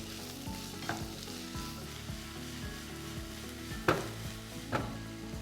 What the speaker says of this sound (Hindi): तेज आंच पर इसे अब हम पकाएंगे।